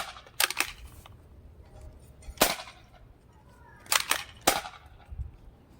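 Nerf blaster from a Fortnite-themed two-in-one design, lightly loaded, firing darts: four sharp, loud cracks spaced unevenly, two of them doubled, with mechanical clicks between and no talk.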